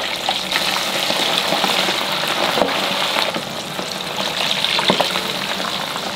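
Thin bacon and shrimp fry in a pan with a loud, steady crackling sizzle and occasional sharper pops, heard close and alone.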